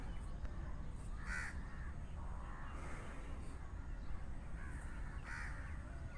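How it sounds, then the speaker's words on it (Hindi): A bird identified as an Asian koel calls outdoors, its repeated mid-pitched notes rising at intervals over steady broadband background noise, moderately loud and with no talking. "ये कोयल एक पैगाम दे रही है"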